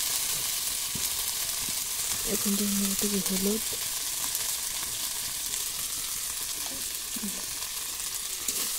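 Ginger, garlic, cumin and dried chilli spices fry in hot oil with a constant close sizzle while being stirred, scraping now and then, as someone talks over the cooking.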